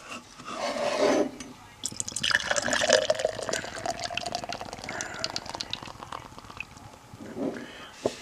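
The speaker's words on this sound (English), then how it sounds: "Kind of an aggressive pour." Guinness Blonde Lager is poured hard into a mug, giving a loud, continuous gush of liquid and foam that runs for several seconds with a brief splash near the start and a final surge at the end.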